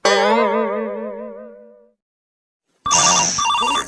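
A mobile phone ringtone in a cartoon comedy: a wobbling, boinging tone fades out, then after a short silence a bright electronic ringing melody starts up loud.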